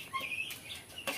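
Tithi chickens on a poultry farm give short, close calls, two bright bursts of clucking and chirping separated by a brief lull, with no talking.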